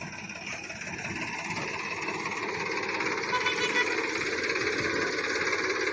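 A tractor engine runs steadily and loudly, powering a homemade hydraulic loader filling a trolley with straw and mustard chaff; a continuous rumbling drone with a faint rattling knock, no voices.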